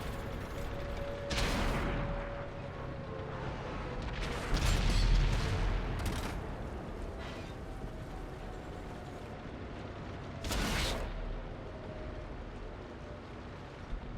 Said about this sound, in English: Now at the moment I'm just using my APCR shells shooting at this E-75